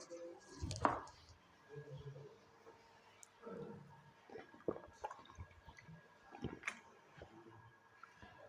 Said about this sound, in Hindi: मैं थोड़ा सा पानी पी लेता हूँ।